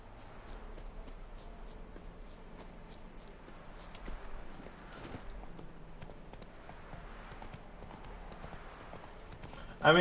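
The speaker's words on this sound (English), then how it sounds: "if Roach is going to conveniently be there, I may as well hop on his back, right" A horse's hooves clip-clop steadily at a walking pace in the Witcher 3 video game. The sound is moderate and sits under other game sounds, and a voice can be heard at times.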